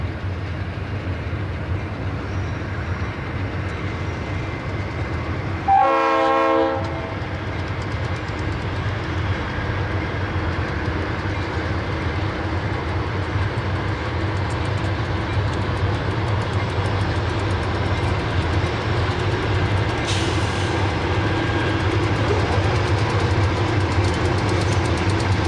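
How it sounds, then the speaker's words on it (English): A westbound freight piggyback train powered by an SP tunnel motor, a UP SD60 and an SP SD70M rolls past with a steady heavy rumble and clatter of railcars, a short loud horn blast early on and continuous rolling noise throughout. "A piggyback train rolls west with an SP tunnel motor, a UP SD60, and an SP SD70M for power."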